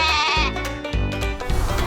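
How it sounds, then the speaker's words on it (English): A sheep bleats loudly and close, a few wavering cries in quick succession with no other sounds around. "This is a sheep."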